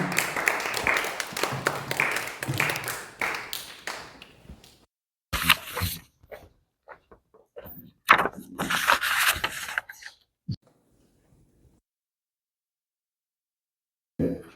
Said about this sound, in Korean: 이제 나와서 말씀 전하실 때 끝이 나면 잘할 수 있도록 큰 박수 받습니다